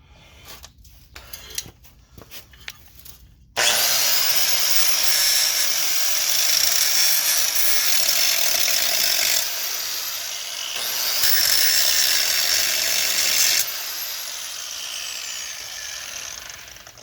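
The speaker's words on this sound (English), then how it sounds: "I'm using a pretty thick grinding disc, not a cutter." An angle grinder with a thick grinding disc grinds out the lower ball joint rivets on a Pontiac Montana, a loud close continuous whine in two long passes with a brief pause, after some clanking tool handling.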